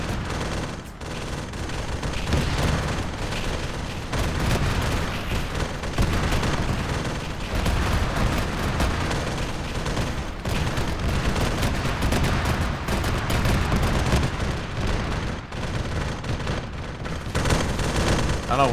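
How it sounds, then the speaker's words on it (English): Rocket launchers and heavy weapons fire in a Warhammer 40K Dark Angels battle game, a dense, continuous roar of overlapping blasts and booms at steady loudness with no clear gaps. "The chaos is trying to hit them with rocket launchers."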